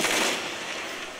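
Video game gunfire played through Lenovo C940 laptop speakers, a dense continuous rattle of shots held at steady loudness for the whole moment, thin and bright with little low end.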